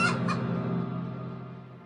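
A chicken clucking as a spooky phantom-fowl effect, a loud single call at the start followed by a second short burst, then a long fading low tail.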